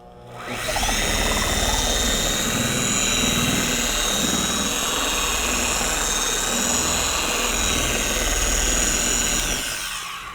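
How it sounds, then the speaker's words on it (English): A TORQ X polishing machine whirs loudly on its lowest speed setting while spreading polish over car paint, a steady, close motor drone that starts abruptly, holds evenly for about nine seconds, then cuts off. "on the lowest speed setting, which is speed setting 1, you'll turn on the machine and just spread it out"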